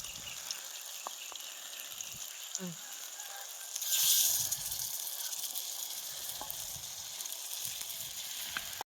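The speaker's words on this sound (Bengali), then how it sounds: "এই দেখো এখন বেগুনের চপ করছে" Eggplant fritters fry in oil in a pan outdoors with a soft, steady sizzle, joined by a few light taps and a brief louder hiss in the middle, while people talk quietly nearby.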